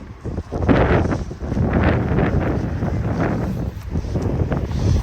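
Strong wind buffets the microphone continuously on a freezing day at a waterfront, a loud rough roar with gusty surges and no voices.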